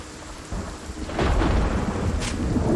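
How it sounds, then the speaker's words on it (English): A thunderstorm rolls in during Project Zomboid, with steady rain hissing and a deep rumble of thunder swelling and growing louder partway through, without any voices. "I'm scared of the rain, scared of the storm, so I'm absolutely crapping myself right now"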